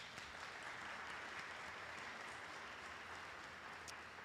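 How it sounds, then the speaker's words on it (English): Audience applause at a town hall meeting, a soft, steady wash of many hands clapping that holds evenly throughout, fairly distant and quiet. "so if we can give them a round of applause."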